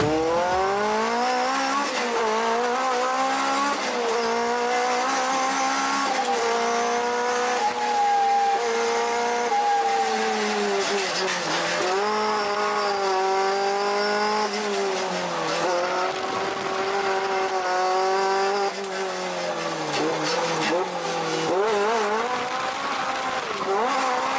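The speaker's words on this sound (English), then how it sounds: "those videos of 100-something horsepower Ford AGAE 86 ripping through a tollgate run" A roughly 100-horsepower Ford AE86 tears through a tollgate run, its engine revving loud and close in continuous rising and falling sweeps, with tire squeal mixed in throughout.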